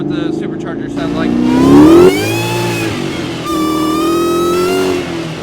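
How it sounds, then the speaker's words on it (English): A supercharged car revs hard with a loud, rising whine that peaks, falls back, then climbs again. It is close and steady, with no talking. "Alright, let's hear what the supercharger sounds like."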